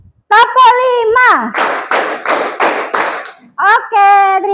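A teacher's voice calls out in a classroom, then five rapid, evenly spaced hand claps from a group follow, loud and near, before her voice returns.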